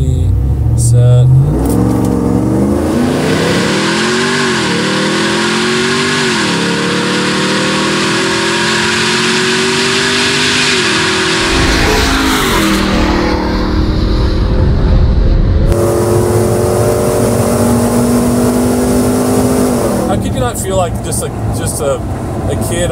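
A 1000 HP Hennessey Mammoth 6x6 truck launches down a quarter mile, its engine roaring loud and close as it revs up through successive gear changes, with voices talking over it.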